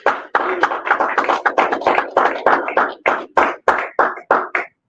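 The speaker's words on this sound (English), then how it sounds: "Let's give our brother Abdul another round of applause." Audience applause at a talk comes through as a run of sharp, distinct hand claps, about twenty of them in a brisk, slightly uneven rhythm. They are close and loud and stop abruptly.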